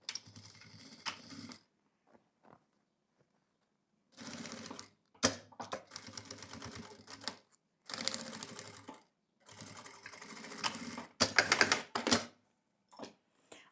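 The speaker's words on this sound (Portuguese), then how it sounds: "E vou costurar também." A sewing machine stitches bias binding onto a fabric pouch in several short bursts of rapid mechanical whirring, separated by silent pauses.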